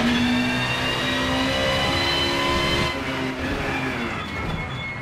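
A Peugeot 406 touring race car from the BTCC runs with a sustained, loud engine drone whose pitch holds steady and then eases slightly, the exhaust note staying up close with no talk over it.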